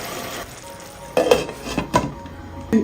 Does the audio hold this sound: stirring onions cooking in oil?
yes